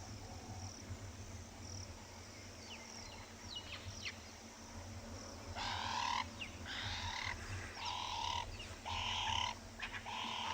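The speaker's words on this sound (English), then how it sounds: "Lovely dove sounds." Doves calling at a South African safari site in the afternoon, a series of faint, repeated coos rising over a soft bed of insect and frog sounds, with other birds chirping now and then.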